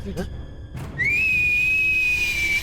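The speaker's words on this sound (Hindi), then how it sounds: "सीटी आती है, सीटी।" A person whistles one long, sustained high note that rises briefly at the start and then holds steady, preceded by a couple of short thumps, loud and close.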